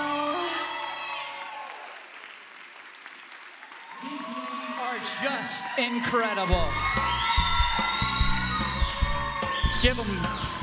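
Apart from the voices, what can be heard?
audience applause and cheering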